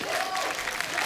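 Applause from a television studio audience greeting a singer and mimic on a comedy show, a brief dense patter of many hands heard close with a soft crowd murmur.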